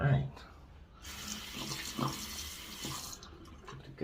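A paint brush is rinsed under running tap water, with a continuous splashing flow interrupted by a few brief knocks and swishes as the brush moves through the stream.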